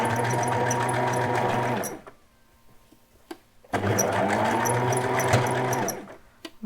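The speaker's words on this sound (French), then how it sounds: "je vais continuer la couture pour les superposer" A domestic sewing machine stitches layers of garment fabric in two steady, fast-running bursts with a short pause between them, whirring loud and close.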